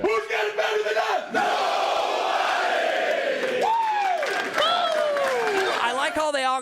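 A stadium crowd chants and cheers in rhythmic, swelling waves of many voices, loud and reverberant, with a few whoops rising above the roar.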